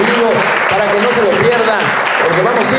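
A live studio audience gives sustained applause, dense clapping that stays strong and close for several seconds, while a presenter's voice talks over it.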